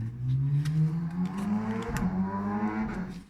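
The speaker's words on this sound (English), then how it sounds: "we must apologize for this very loud car" A loud car exhaust passes outside with a low, steady rumble, the engine note rising slightly as it goes by.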